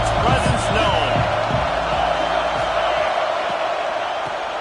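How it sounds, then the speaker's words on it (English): Dense roar of a football stadium crowd at an LSU versus Clemson game, a steady broadband wash of cheering voices that stays loud and continuous throughout, with faint commentary-like speech blending in near the start. "This crowd ready to make its presence known."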